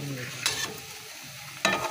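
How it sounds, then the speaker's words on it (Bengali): Pakoras frying in hot oil in a home kitchen, a soft low sizzle with two brief bursts of stirring or spattering, fairly quiet and close. "পকোড়া ভাজা চলছে, পকোড়া ভাজা হচ্ছে।"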